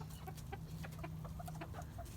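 A lethargic hen clucks in short, soft, repeated calls over a low steady hum.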